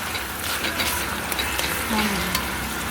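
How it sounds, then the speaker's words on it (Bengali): Mustard and coconut paste masala sautéing in a pan for a vegetarian elephant foot yam stem dish, giving a steady close sizzle with light scraping of a spatula throughout. "এবারে দিয়ে দেবো নারকেল বাটা নারকেল বাটাটা দিয়ে আরও এক মিনিট মতন আমি কষিয়ে নেব"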